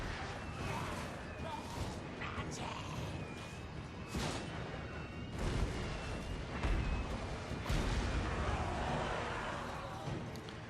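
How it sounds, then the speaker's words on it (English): Mortars fire repeatedly in a Total War: Warhammer 3 battle, dull booming thumps scattered through a dense, noisy battlefield mix of impacts and clatter, with a voice talking over it. "Our mortars are still just firing away, targeting their gun units."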